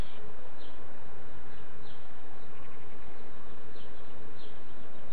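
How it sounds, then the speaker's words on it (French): Scattered bird chirps and calls from trees under cooling air just before a thunderstorm, faint and intermittent over a steady broadband outdoor hiss, with possible insect buzz mixed in. "Les oiseaux décident de se foutre dans les arbres."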